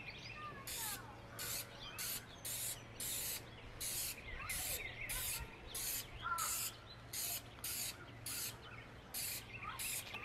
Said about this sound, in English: So I've got my Krylon spray, and I'm outside.